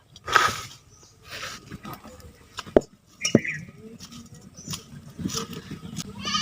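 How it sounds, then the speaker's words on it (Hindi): A metal wok set down on a wood-fired clay stove in a village kitchen, with two sharp clanks among soft crackling and handling noises, outdoors and close. "एबे कढ़ाईटा को बसई देबा"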